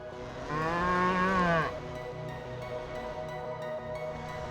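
Cattle mooing on a Colorado mountain trail near Capitol Peak: one long, loud, wavering moo close by for about a second, then a fainter low lowing over steady outdoor background.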